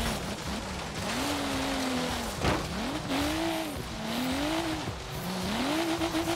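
BMW M4 Liberty Walk tires squealing in long, wavering screeches while drifting in Forza Horizon 3, the pitch sliding up and down over a steady engine roar and loud road noise.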